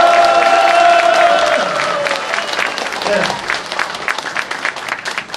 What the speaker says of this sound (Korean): 지금 뜨거운 함성과 박수로 한번 다시 한번 시작, 시작하도록 하겠습니다